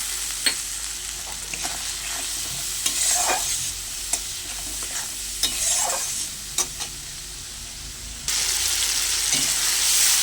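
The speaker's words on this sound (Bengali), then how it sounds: "অল্প একটু জল দেবো, দিয়ে মশলাটা ভালো করে কষে নেব।" Spice paste with onion and green chilli sautés in a pan, a soft continuous sizzle broken by repeated scraping stirs and clinks of the spoon, fairly close and with no voices.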